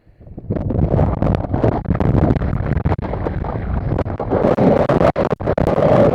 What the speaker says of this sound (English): look how quick that's wind coming in